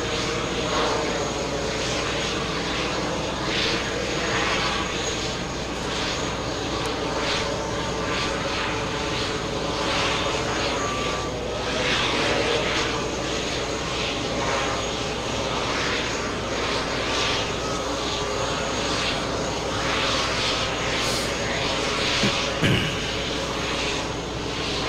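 A Boeing 767 taxiing at JFK airport gives a constant, rumbling whine of jet engines, steady and moderately loud for the whole stretch, with broad airport background noise and no voices.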